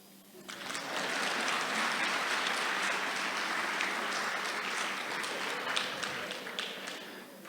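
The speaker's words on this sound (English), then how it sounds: "Clap for me." Steady applause from a conference closing-ceremony crowd in Sun City, sustained and fairly loud from start to finish, with scattered sharper claps standing out near the end.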